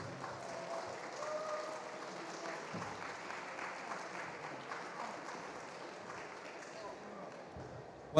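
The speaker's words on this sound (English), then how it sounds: "if you'd like to start a round of applause" A convention crowd at a Star Wars fan festival applauds guests arriving on stage, a faint, distant, steady patter of clapping with some murmuring voices mixed in.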